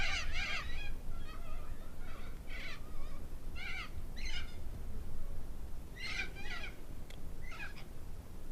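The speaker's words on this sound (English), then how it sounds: "A lot of birds." Several birds call from a tree in bursts of harsh, crow-like cries spread across the stretch, over a steady low rumble of background noise outdoors.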